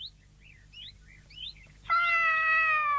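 A cat lets out a long, loud, clear meow close by, preceded by a few faint chirping sounds in a quiet room.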